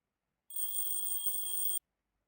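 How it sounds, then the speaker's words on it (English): A bright electronic alarm in a video game rings steadily for just over a second, cutting in and out abruptly against silence. "I wake up and turn off my alarm"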